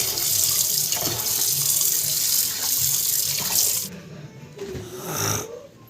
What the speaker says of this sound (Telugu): ఇప్పుడైతే రైస్ కడిగి పెడుతున్నాను